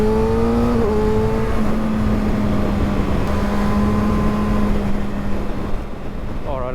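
2020 Kawasaki ZX6R sport motorcycle on a test ride, a loud, close engine holding a high steady whine with a brief shift near the start, over heavy wind rush, easing off toward the end.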